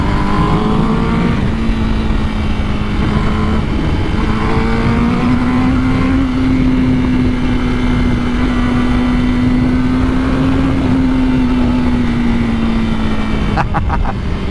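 Honda CBR1000RR-R Fireblade SP motorcycle accelerating hard on a dry road, a loud, steady, sustained engine drone that slowly rises in pitch and holds, mixed with heavy wind rush throughout.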